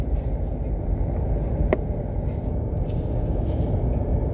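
A snow plow truck drives its route after a snowstorm, giving a steady, loud low engine and road rumble throughout, with one brief sharp click partway through.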